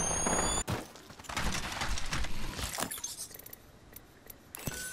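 Rapid bursts of weapon fire in the shooter game Apex Legends, sharp cracks and clattering volleys scattered across the scene at middling distance, mixed with metallic impacts and intermittent quiet gaps.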